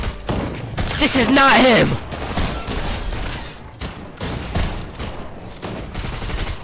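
Rapid gunfire rattles in the battle royale game Fortnite, with bursts of shots and thuds under excited shouting from players.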